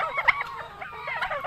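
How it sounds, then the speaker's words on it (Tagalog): Rhode Island Red hens cluck and murmur close by in a steady, chattering series of short throaty calls with a few louder squawks, no talking. "yung hens natin na Rhode Island Red"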